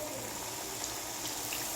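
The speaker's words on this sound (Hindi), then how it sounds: "थोड़ा सा हमें इसमें पानी ऐड कर देना है" Water pouring from a tap or jug into a cooking pot while making kadhi pakora, a steady broad gushing splash running close and continuous throughout.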